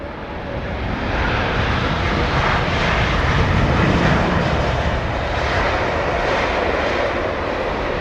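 A Vietnam Airlines Boeing 787-9 jet arriving from Hanoi at London Heathrow gives a loud, steady broadband roar that swells after the first second and holds close and constant throughout.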